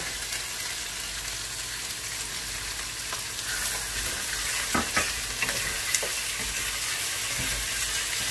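Creamy, spicy Bicol Express with black pepper stirred in a pan: a constant loud sizzle and bubbling, with a few sharp spoon scrapes and taps in the second half.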